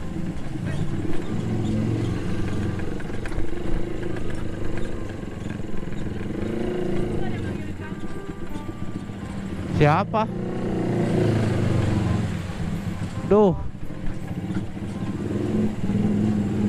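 Motorcycles and cars crawl through a congested road during a local celebration, a continuous mix of engine drone and revving with two sharp horn-like blasts, while people talk over the traffic.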